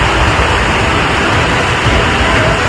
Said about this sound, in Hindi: पानी का ये प्रचंड प्रवाह प्राकृतिक विपत्ति की खौफनाक व्याख्या कर रहा है